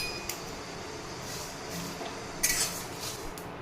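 Three dried red chillies with cumin, fennel and coriander seeds dry-roasting in an empty wok, giving a soft continuous scrape and rustle of stirring with one sharper metallic clink partway through.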